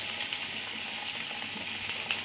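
Small dollops of cabbage pakora batter fry in hot oil in a wok, giving a dense, steady, close sizzle with a few brief crackling pops and no talking.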